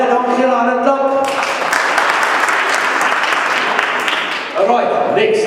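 Church audience applause, a loud sustained burst of clapping that swells and fades, with someone speaking briefly before and after it.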